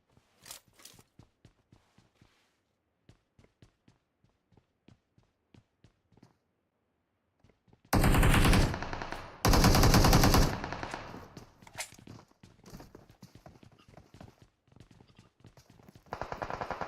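Gunfire in a competitive shooter game: scattered single shots and footsteps, then two long bursts of loud automatic fire, followed by more sporadic shots and another burst at the end.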